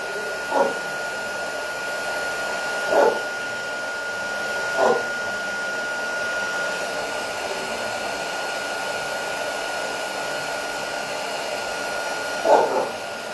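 A heat tool blows a steady loud whooshing hum while melting embossing powder in a craft project, with a few brief soft bumps breaking the continuous drone.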